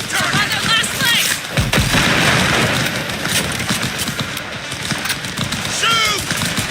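Gunfire and explosions in the video game Cyberpunk form a dense, loud battle din with bursts of shots and booms. Shouting voices cut in over the combat.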